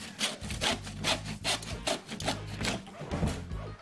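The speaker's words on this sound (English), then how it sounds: "We start by cutting our piece of lattice to one side of the centre batten." A saw rasps through a piece of wooden lattice beside a centre batten in quick, rhythmic back-and-forth strokes, close and fairly quiet, with no talk.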